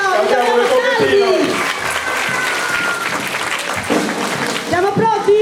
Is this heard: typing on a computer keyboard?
no